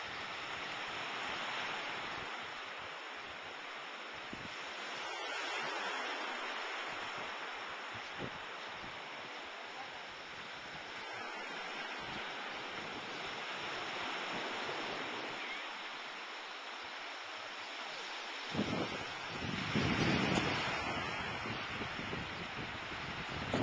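Steady surf washing in on Siesta Key Beach on a cool, fine day, a broad continuous roar with wind buffeting the microphone and a louder swell of breaking water near the end.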